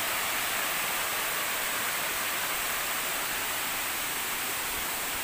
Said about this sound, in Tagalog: So ito yung pinaka bagsakan ng tubig pa ibaba.